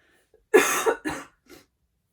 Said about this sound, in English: please ignore the coughing